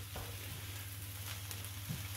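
Vegetables for chow mein sizzle steadily in a hot pan, a soft continuous crackle with a faint low hum and an occasional light scrape of stirring.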